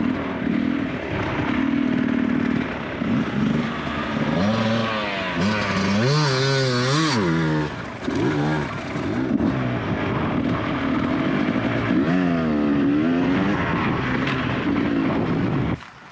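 Enduro motorcycles, including Beta and KTM bikes, ride over small hills, engines revving and rising and falling in pitch as they climb and pass close by, a loud continuous roar with no talking.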